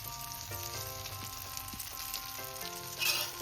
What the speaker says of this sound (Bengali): এবার আমি এটা এই বেগুনের মধ্যে মিশিয়ে নিচ্ছি